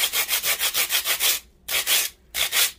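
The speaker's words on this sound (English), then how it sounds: "rub it together, and it's kind of like sandpaper" Two pieces rubbed together like sandpaper to even them out while making a candy bouquet, a close, loud, rhythmic scraping of repeated strokes with two short pauses.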